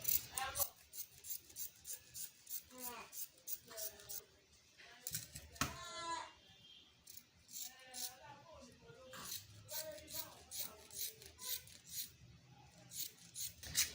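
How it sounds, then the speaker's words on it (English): Scissors cutting fabric for a flared gown with pockets, a series of close, crisp snipping and rasping cuts in short runs between moments of talking. "After joining the sketch at the down part, then I'll start the cutting from the shoulder here."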